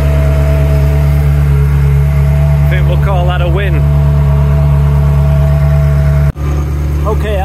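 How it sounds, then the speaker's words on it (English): A Ferrari F355 engine fitted with a Capristo exhaust runs loud and steady at a deep, throbbing idle, with someone speaking briefly over it and a short dip in the sound near the end. "That exhaust sounds absolutely ridiculous."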